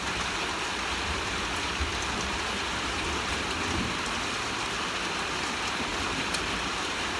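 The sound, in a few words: rain and thunder of a thunderstorm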